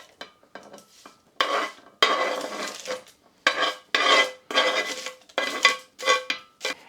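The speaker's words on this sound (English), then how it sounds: "I'm gonna mix this until I get lovely and smooth consistency." Roasted aubergine and garlic stirred in a bowl, with repeated scraping and clinking strokes of a utensil coming in bursts, fairly close and clear, with no talking.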